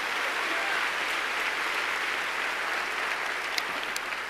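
A large congregation at an Ebenezer Honduras church service applauds strongly and continuously, a loud, even wash of clapping that fills the room throughout.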